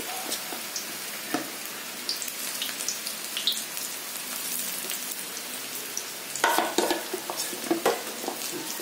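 Onion bhaji fritters crackle and sizzle steadily in hot oil, a close, dense frying hiss with scattered pops and a few louder bursts near the end.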